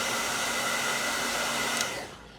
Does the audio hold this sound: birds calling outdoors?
no